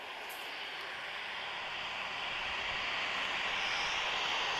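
Transavia airliner taking off at Lisbon Airport, bound for Paris Orly: a steady broadband engine roar that slowly swells in loudness over several seconds, heard from a spotting position without talk.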